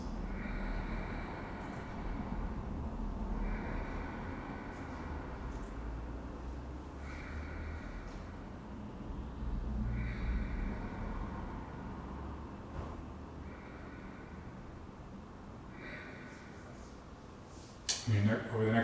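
Ujjayi breathing during a yoga vinyasa flow: slow exhalations forced out through the nose past a constricted throat, giving repeated soft, hissing, ocean-like rushes of air at a steady rhythm, heard close and alone.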